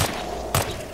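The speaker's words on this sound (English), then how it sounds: "Yeah, it was a gun." A gunshot in the Hitman Absolution video game: two sharp, loud cracks about half a second apart, each trailing off into a short echo, with no voices over them.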